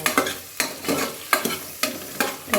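Vegetables fry in a pan for a lentil and vegetable saaru, stirred in a steady rhythm of loud scraping strokes about twice a second over a continuous sizzle.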